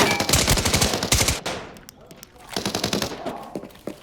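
Rapid bursts of automatic gunfire in a first-person shooter video game, two loud rattling volleys separated by a brief pause, close and dominant with a voice faintly underneath.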